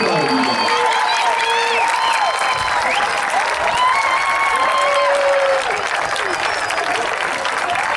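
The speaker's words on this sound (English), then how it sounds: "Let's give them all a big round of applause." Graduation audience breaks into loud, sustained applause mixed with cheering and whoops, a dense wall of clapping lasting several seconds, with voices shouting within the crowd.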